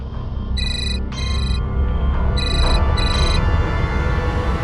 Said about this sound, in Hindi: अरे फोन उठाकर बात कर लो ना पहले।